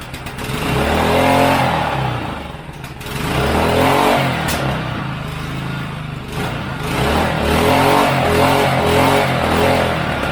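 A small Subaru engine on a go-kart, running on choke, idles roughly and revs up and down in repeated surges, loud and close, with no talking.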